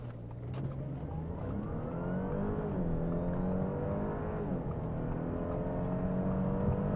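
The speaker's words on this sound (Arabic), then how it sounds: "انطلاقة السيارة عجيبة عجيبة عجيبة" An Audi A7 with a 3.0-litre turbocharged V6, seven-speed automatic and quattro all-wheel drive pulls away hard from a launch, its engine note climbing steadily through the rev range, heard from inside the car with no talk.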